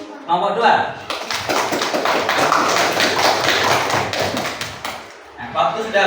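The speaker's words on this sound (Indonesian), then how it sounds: "Tepuk tangan untuk nomor 2." A primary school classroom bursts into applause for group number 2, many children clapping loudly and densely for several seconds with voices mixed in.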